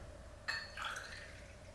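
Liquor free-pours from a bottle in a steady, quiet stream, beginning abruptly and running smoothly for over a second.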